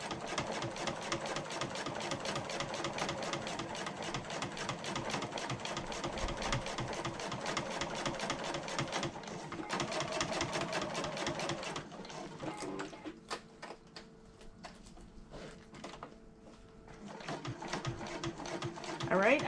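A sewing machine stitches around a bag's interior pocket liner, running in fast, steady, close bursts of needle clatter for long stretches, with a brief pause and slower stitching before it speeds up again.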